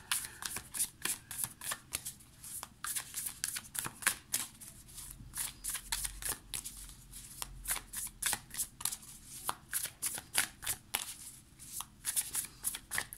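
A deck of Light Seer Tarot cards is shuffled steadily for about thirteen seconds, giving close, crisp riffling bursts in a quick irregular rhythm with no talking.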